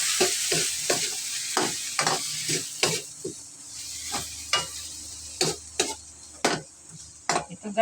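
Beef sizzles in a frying pan alongside garlic while a utensil stirs it. Sharp scraping strokes come at an uneven rhythm over a soft, constant sizzle, heard close up with no talking.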